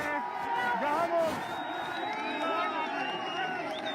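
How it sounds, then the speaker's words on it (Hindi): A street crowd in Ghaziabad welcomes Chief Minister Yogi Adityanath during a door-to-door election campaign, a dense, continuous wash of voices and cheering with shrill whistle-like tones rising above it. "लोग देखिए किस तरह से स्वागत कर रहे हैं, तालियां बजा रहे हैं, पुष्प अर्पित कर रहे हैं"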